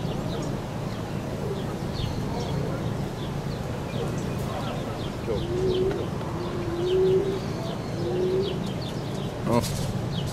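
A domestic pigeon on a house roof gives several low, soft cooing calls in a series, moderately close, over a constant outdoor background hiss with faint chirps.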